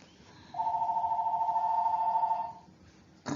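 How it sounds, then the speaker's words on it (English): A mobile phone ringing indoors, a single sustained electronic tone lasting about two seconds, clear and close against quiet room background. "My phone rang."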